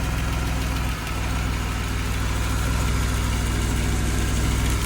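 A 1989 Mercedes-Benz 190E engine idles steadily and close by with a low, even rumble and a faint rhythmic tick. There is no talk over it.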